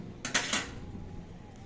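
A lid set onto a cooking pot of vegetable pulao, giving a brief double clatter of metal on metal at close range, then quiet room tone.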